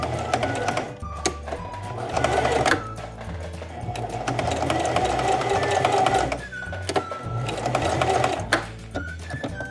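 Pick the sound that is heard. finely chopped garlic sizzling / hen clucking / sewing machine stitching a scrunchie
sewing machine stitching a scrunchie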